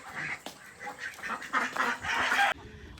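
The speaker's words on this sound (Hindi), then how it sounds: "डक्स सारी बाहर निकल गई हैं हमारी" Farm ducks let out of their enclosure on a poultry farm, quacking in a busy overlapping chorus of calls at close range, with no talk over them, before the sound cuts off sharply near the end.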